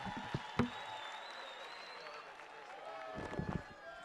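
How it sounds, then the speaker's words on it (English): Crowd at a charity walk event gives a round of applause for sponsors, scattered clapping heard under and between a man's amplified speech, with a few sharper, closer claps near the start and end. "Let's give them a round of applause."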